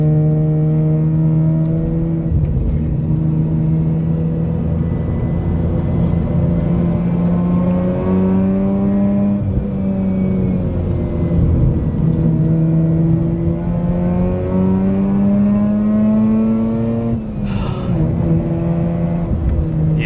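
A Mazda RX-8 rotary engine drones steadily from inside the car while driving, its loud, smooth hum rising and falling gently in pitch as it accelerates, with no talking over it.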